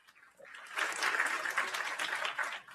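Broadband crowd applause in a room builds quickly after a faint start and holds steady and dense through the rest of the short stretch, with no voice over it.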